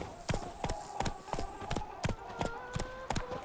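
Roach the horse trots in The Witcher 3: Wild Hunt, close regular hoof clip-clops in a steady rhythm, about ten strikes, with faint tones drifting underneath.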